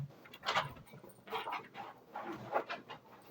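A dog pants rapidly in close, breathy bursts, with a few high whimpers mixed between the breaths.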